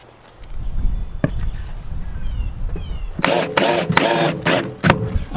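A power driver sinks screws into a glued wheel well box inside a teardrop camper trailer build: some light handling and knocks first, then several loud, close bursts of whirring with brief gaps between them.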